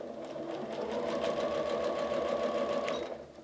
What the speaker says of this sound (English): I am going to go ahead and sew